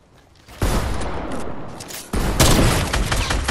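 Two loud heavy sniper rifle shots from a video game, each a sharp booming crack followed by a long rumbling tail, the second about a second and a half after the first, close and dominant.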